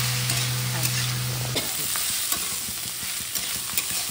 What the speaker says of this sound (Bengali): দেখো বন্ধুরা ভাজা ভাজা করে নিয়েছি, দেখছো কত সুন্দর ভাজা ভাজা করে নিলাম।